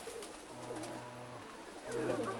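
Pigeons coo softly in a loft of black pigeons, a low repeated murmuring call that swells slightly near the end, with no talk.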